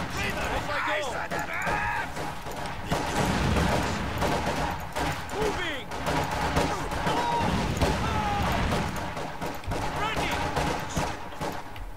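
Small arms gunfire in the video game Company of Heroes 2, with rapid bursts and repeated shots crackling through a busy battle mix, along with crashes and shouted voices almost throughout.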